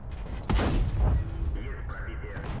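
A tank cannon shot fires in a tank video game, a single heavy boom with a rumbling tail over continuous engine and battlefield noise.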